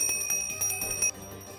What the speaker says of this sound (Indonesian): ini namanya lonceng